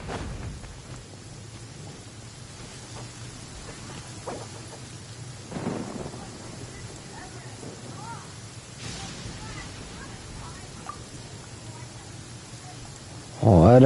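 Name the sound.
heavy rain and thunder in Genshin Impact video game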